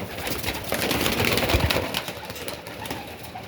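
Pigeons coo softly nearby amid a busy, rustling background, with no one speaking.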